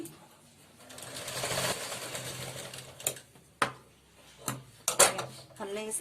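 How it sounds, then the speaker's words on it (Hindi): A sewing machine stitches the sleeve of a katori blouse, its steady running whir rising and falling close by, broken by several sharp clicks and knocks from handling the fabric and machine. "इस निशान पर आपको सिलाई लगा लेनी है।"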